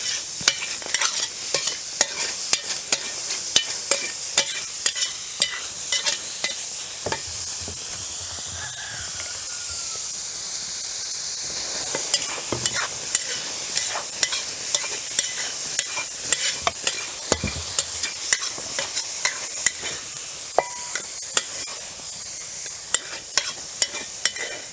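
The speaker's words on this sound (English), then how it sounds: "The wok is pretty hot, and so the first thing I will do is cook the lamb really quick." Lamb stir-frying in a very hot wok, a loud continuous hiss and sizzle with rapid rhythmic scraping and clanking of the spatula against the metal throughout.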